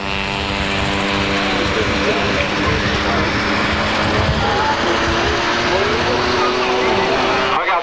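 Scale model North American T6 airplane at an air meeting in Yverdon, 1981, making a low full-throttle pass with a steady, loud propeller-engine drone and a rising harmonic whine throughout, under announcer commentary.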